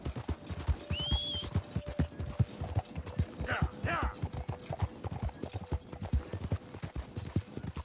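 Morgan horse hooves clip-clop in a steady, close, regular rhythm through Red Dead Redemption 2, with a short whinny partway through and a voice talking over the hoofbeats.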